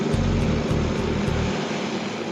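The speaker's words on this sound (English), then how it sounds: "A C-130 makes the quick hop behind the lines." C-130 military transport aircraft passing with a steady, loud propeller drone and rhythmic low throbbing, close and continuous with no talk.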